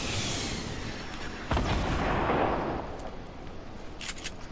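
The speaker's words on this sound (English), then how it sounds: "I use a rocket launcher" A rocket launcher firing in a video game: one sharp blast followed by a broad rushing roar that fades over a couple of seconds, loud and close, then a few faint clicks.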